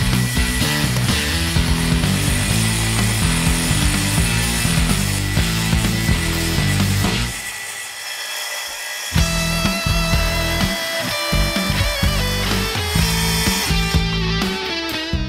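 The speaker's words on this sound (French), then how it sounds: "je vais utiliser une scie circulaire spéciale métaux avec lame carbure" A metal-cutting circular saw with a carbide blade slices through 8 mm steel plate. It is a loud, continuous, harsh screech with strong tonal whine, dips briefly partway through, then resumes, with no talking.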